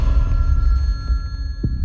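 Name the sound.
telephone ringing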